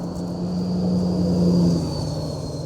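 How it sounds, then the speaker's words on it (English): Road traffic passes near a metal detecting site in Vermont, a steady engine rumble and whoosh that swells and fades as a vehicle goes by, moderately close with no talking. "Again, sorry for the traffic noise."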